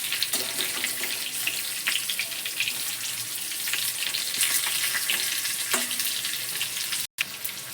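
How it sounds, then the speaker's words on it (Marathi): Bitter gourd sizzles steadily in hot oil while it is turned and stirred, with continuous frying hiss and occasional scraping clicks close by, briefly cutting out near the end. "आपण असं तेलामध्ये ना आता उलटं पालटं करून थोडंसं शिजून देणार आहे"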